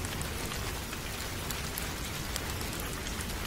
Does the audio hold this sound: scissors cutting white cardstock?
no